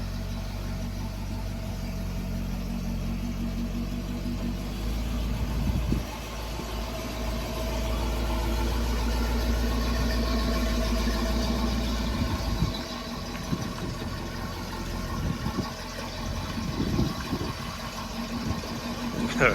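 A muscle car that has sat undriven for 25 years idles steadily, its low rumble constant and close with a few brief revs or bumps in the middle and near the end, and no voices.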